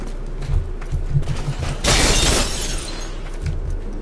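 Glass shattering in the shooter video game Hard Reset: a sharp bright burst of breaking glass lasting about half a second, flanked by low mechanical pulses and faint creaks before and after.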